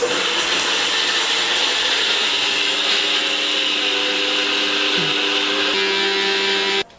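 A mixer grinder whirring continuously at close range, a loud steady mechanical drone with a constant pitch that cuts off abruptly at the end.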